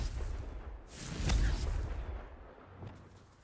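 Bombarda blasting spells explode in the Hogwarts Legacy video game, with a muffled, fairly faint boom and whoosh swelling in the middle and a smaller impact near the end.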